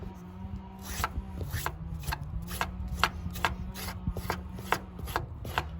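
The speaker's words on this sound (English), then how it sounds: "using a good tablespoon is a great and quick way to go ahead and strip the fibers out of this" A tablespoon scrapes along a yucca leaf to strip out its fibers, making a steady series of rough, rasping strokes about one every half second. The scraping is close, over a faint low hum.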